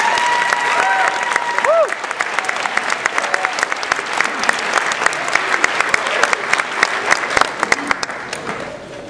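Audience at a graduation ceremony breaks into sustained, dense applause welcoming the salutatorian to the stage, a steady roar of many hands clapping with a few louder claps standing out.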